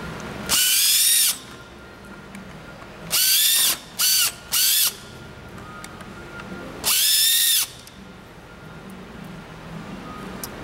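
A power screwdriver backs screws out of a massage chair's power panel in separate whirring bursts: one long run, a couple of short spurts close together, then another long run, close by against a quiet room.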